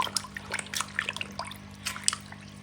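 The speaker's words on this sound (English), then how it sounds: "we're going to clean the filter material in water from the fish tank" Aquarium filter material being rinsed and squeezed in water drained from a fish tank, giving irregular close splashes and drips with no voices.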